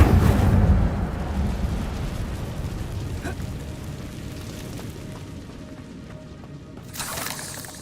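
A fiery Incendio spell cast in Hogwarts Legacy opens with a loud rumbling whoosh of flame that decays into a crackling burn, then flares briefly again near the end.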